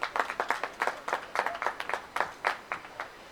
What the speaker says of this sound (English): You can hear it, a nice big clap for Walters as he comes off.